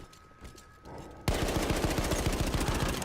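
Battlefield 1 machine gun fire erupts after a quiet second and keeps going as a loud, rapid, unbroken burst of gunshots.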